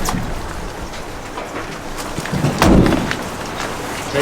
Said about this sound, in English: the boys are out in the pissing down rain.